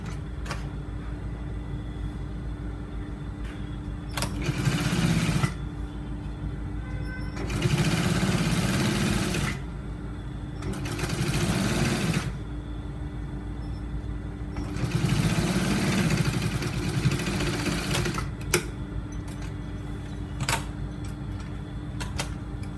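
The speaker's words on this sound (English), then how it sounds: "I'm going to run a stitch." Sewing machine stitching a shirt collar runs in several loud bursts of a few seconds each, separated by short pauses and light handling clicks, close to the listener.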